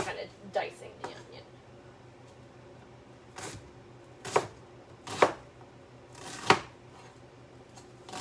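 An onion diced with a knife on a board, a handful of sharp separate chops spaced irregularly, with a person talking between them.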